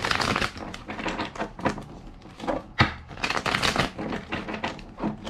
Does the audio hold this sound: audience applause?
no